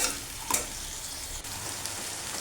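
Tomato and green chili sizzle in hot oil while being stirred, a steady close frying hiss with a couple of brief scraping stir sounds.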